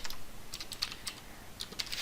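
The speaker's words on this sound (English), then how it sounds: "now I can just go ahead and I just type here" Typing on a computer keyboard while designing a Facebook cover graphic: quick, irregular clicks and taps at low level, close, with no voice.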